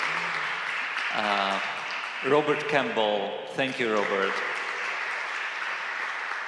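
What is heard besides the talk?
audience applause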